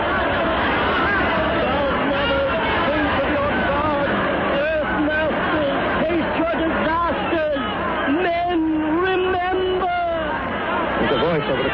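An agitated crowd in the 1937 radio drama The Fall of the City: a dense, loud mass of overlapping shouting and clamoring voices churns without letup, with some individual cries rising above the din.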